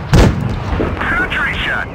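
A single heavy tank cannon shot slams out near the start in WoT Blitz, a World of Tanks game, with a deep booming impact that trails into rumbling game effects and softer warbling tones.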